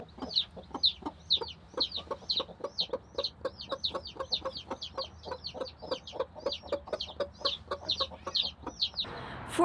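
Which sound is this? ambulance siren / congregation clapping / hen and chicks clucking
hen and chicks clucking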